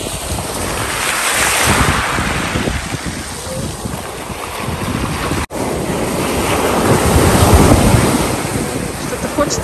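Black Sea waves at Lazarevskoye wash and surge continuously against the shore in murky water, with strong wind buffeting the microphone throughout.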